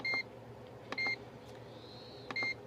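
Three short electronic beeps from an air fryer control panel, spaced about a second apart, clear and close over a quiet hum.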